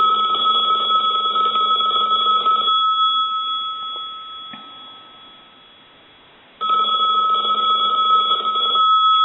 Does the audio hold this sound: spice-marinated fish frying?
no